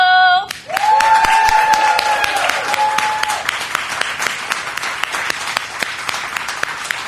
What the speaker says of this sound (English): Make some noise for Miss Sincerely Soulful.